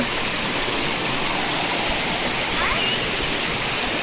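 A stream near the crab-catching holes runs loud and continuous, with a dense rushing roar of flowing water filling the whole stretch close by.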